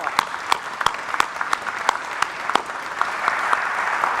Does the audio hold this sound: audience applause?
yes